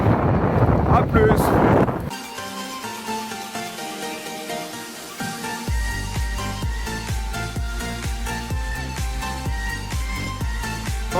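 Strong wind buffets the microphone for about two seconds on a cycling tour in the Manche, France, before it cuts off and rhythmic music with a steady beat takes over.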